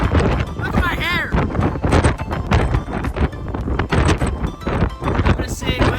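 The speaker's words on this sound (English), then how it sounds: "It's so windy." Gusty wind buffets the microphone in loud bursts, with a person talking through the roar.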